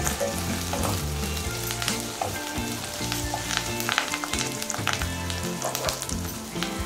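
Curry leaves hit hot oil in a pan for a Telugu-style bontha fish pulusu (fish curry), giving a dense, steady crackling sizzle that runs throughout, with music playing underneath.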